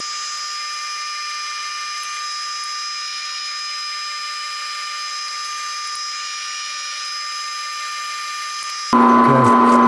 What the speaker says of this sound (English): so I'm gonna drill out some holes for the spot welds